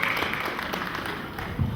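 A church congregation applauding during an evening service, a steady wash of clapping from many hands across the hall, moderately loud and sustained throughout.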